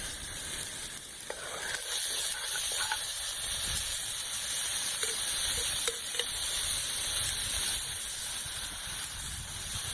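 Chili with chopped tomatoes simmers in a pot, giving a steady, even sizzle and soft steamy hiss that runs unbroken throughout, with a few faint stirring clicks near the start.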